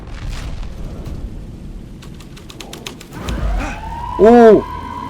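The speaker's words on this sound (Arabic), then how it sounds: "عربية الشرطة" Police car siren in the horror video game Alan Wake 2, wailing in rising and falling sweeps that swell loudly near the end over a low ambient rumble, with faint pulsed tones beforehand.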